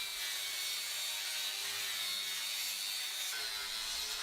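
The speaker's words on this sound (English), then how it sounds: "Sanding evens out color and eliminates nearly all visible defects, though fine irregularities remain naturally." Timber on a prefab wooden house is sanded to a P80 finish, giving a steady, loud, even abrasive hiss with a faint machine whine that runs without pause.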